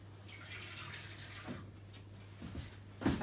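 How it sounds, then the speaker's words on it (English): Water pours in short splashing bursts into a vegan mincemeat mixture with fresh orange juice and zest, close and moderately loud over a steady low hum, with a stronger splash at the end. "I'm just going to add a bit of extra water."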